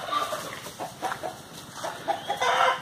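A hen clucks in a series of short, repeated calls while grabbing at a baby rattlesnake, close and fairly loud, with no talking.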